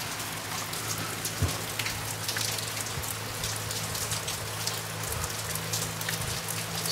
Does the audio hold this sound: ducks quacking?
no